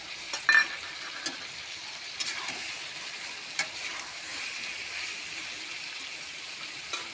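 Ground spice paste with garlic and green chilli fries in oil for a Bengali red chicken curry, giving a soft, steady sizzle with a few sharp utensil clinks near the start.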